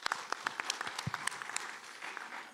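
An audience at a county government program review event claps, a flurry of sharp individual hand claps thinning out over a couple of seconds, heard from moderately close.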